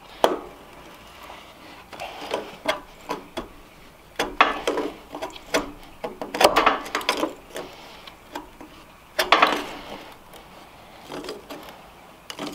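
A filter wrench works the oil filter loose on an Exmark Lazer Z mower, giving a series of irregular close metallic clanks and knocks over a quiet background.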